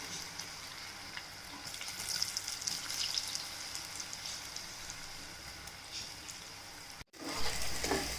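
Cauliflower frying in a pan makes a steady, hissing sizzle at moderate volume. It swells slightly midway, then breaks off with a short silence before a louder, rougher burst of frying noise.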